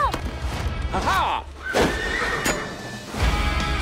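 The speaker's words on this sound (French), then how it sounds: "Je rêve ou je suis en train de me battre en duel contre un cheval?" A horse neighs with rising and falling whinnies alongside clip-clop hooves and a crash, set against loud trailer music and voices in an animated film about Rapunzel.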